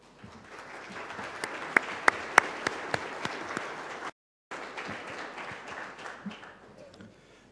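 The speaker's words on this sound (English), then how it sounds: "Thank you very much for this applause for my colleague Josef Šíma." Audience applause for a colleague at the opening of the 2009 Prague Conference on Political Economy, a dense hall-wide clapping with a few sharp nearby claps standing out, briefly cut to silence before the steady applause resumes and fades.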